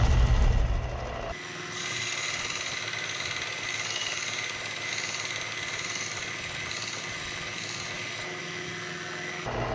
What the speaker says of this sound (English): So I'm having you kind of look right down the pipe of my sander here.